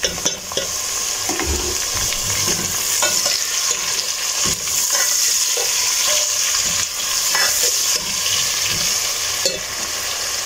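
Chopped onion drops into hot oil with light-browned garlic for a mixed vegetable dish, and a loud, steady sizzle continues throughout, broken by a few stirring scrapes and clinks close by.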